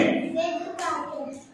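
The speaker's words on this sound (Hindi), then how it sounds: "ताली बजाइए" Children clap their hands in a short, light scatter of claps in a classroom setting, mixed with children's voices speaking nearby.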